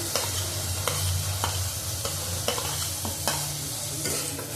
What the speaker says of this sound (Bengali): দেখো, আদা রসুন ভাজা হয়ে গেছে